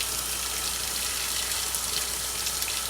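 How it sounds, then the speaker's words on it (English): A washing machine on a delicate cycle runs water through its softener dispenser, a steady, even hiss of flowing water that carries on without pause and with no voices. "that's what it's doing, dispensing softener"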